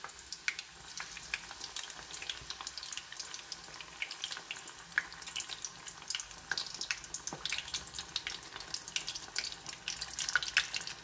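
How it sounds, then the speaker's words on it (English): Pieces of tautog in tempura batter deep fry in oil at about 356 to 375 degrees, giving a steady, faint, crackling sizzle with scattered sharp pops throughout. "I'm going to go ahead and keep frying these"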